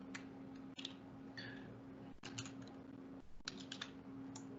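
Steady keystrokes on a computer keyboard clatter in short bursts with brief pauses, close and fairly loud over a constant low electrical hum, with no speech.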